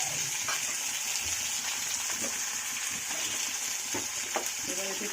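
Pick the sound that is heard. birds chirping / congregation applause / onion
onion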